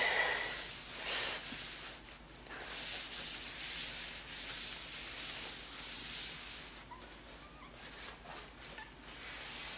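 Cloth rubbing Goo Gone residue off a laptop's surface, a soft continuous wiping and scrubbing with repeated strokes, close and steady, with no talking.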